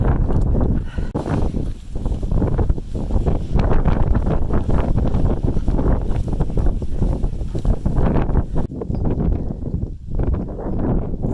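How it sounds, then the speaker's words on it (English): Strong wind along the Pacific Crest Trail in California buffets the microphone in continuous, uneven gusts, a loud rushing rumble throughout with no speech. "Hopefully the wind will let up a little bit and it'll warm up a tad."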